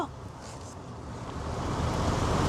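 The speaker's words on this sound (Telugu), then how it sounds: "పైనుండి వచ్చే వాటర్ అంతా ఒక వాటర్ ఫాల్ లాగా వెళ్ళి కింద నదిలో పడుతూ ఉంటాయి" Water pours steadily from a waterfall into a river at Shantytown, New Zealand, with a broad, constant rushing hiss that grows slightly louder.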